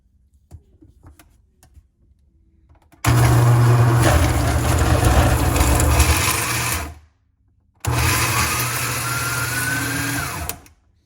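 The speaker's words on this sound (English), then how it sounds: "so let's put the lid on it and get it ready for grinding" Electric grinder grinding hot chili paste, two loud bursts of dense motor whir, one about four seconds long and another about three seconds after a short pause, preceded by faint handling clicks.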